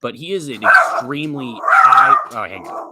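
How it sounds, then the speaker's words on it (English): A dog barks from downstairs in sharp, repeated bursts, loud and close enough to cut across someone talking over it during a football preview discussion. "We have him downstairs and he's barking."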